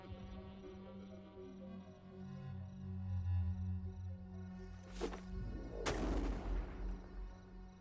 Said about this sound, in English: we're gonna throw another grenade